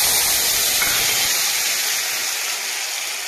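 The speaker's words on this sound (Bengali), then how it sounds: "আলু দিয়ে একটু ভেজে নিতে হবে" Potatoes hit hot oil with fennel seeds in a home kitchen, producing a loud, broad steamy hiss that gradually softens and thins over a few seconds, with no talking.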